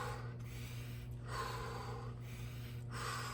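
Sharp inhales repeating at roughly regular intervals, each a breathy hiss drawn quickly over a constant low steady hum, close and moderately loud.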